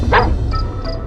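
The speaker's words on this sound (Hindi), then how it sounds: "दूर कहीं कुत्तों के भौंकने की आवाज" Dogs bark somewhere off in the distance on a desolate forest road on a rainy night in a horror tale, a brief yip followed by a couple of fainter, far-off barks under a low rumbling background.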